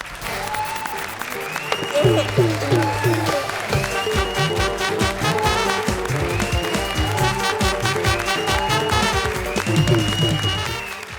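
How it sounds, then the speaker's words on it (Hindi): Steady applause from a comedy show studio audience runs throughout, with music and voices playing over the clapping. "हाँ बजाओ ताली उनके लिए"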